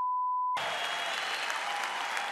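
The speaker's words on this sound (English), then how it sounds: "So please give him a round of applause as our heavyweight champion of the world." A large arena crowd applauds and cheers for a heavyweight boxing champion after a world title fight, the dense clapping starting abruptly after a steady beep and holding loud and continuous.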